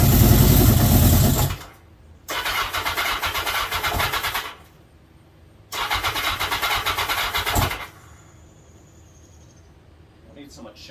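A long-idle Yamaha XJ1100 motorcycle engine cranks loudly and catches in two separate bursts of several seconds each, with quieter gaps between them, close by.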